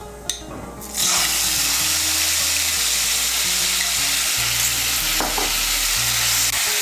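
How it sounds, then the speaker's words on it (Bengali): Whole cumin seeds sizzle loudly as they are stirred in hot oil for a vegetarian matar dal muithya, with a steady, close frying hiss and occasional scraping stirs, and no voices. "ফোড়নটা দিয়ে একটু নাড়াচাড়া করে নিয়ে"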